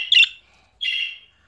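A pet bird indoors gives two short, bright chirping calls about half a second apart, clear and close in an otherwise quiet room.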